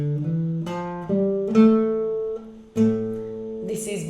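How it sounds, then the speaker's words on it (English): The A Phrygian scale played on a guitar across one octave, in a flamenco style: single plucked notes step upward one after another, each ringing clearly and close. "So the Phrygian scale sounds like this."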